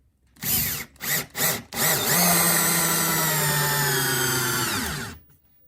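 A Bosch Flexiclick 12V drill with a right angle attachment gives three short bursts, then a steady high whine held for about three seconds before spinning down, close and clear.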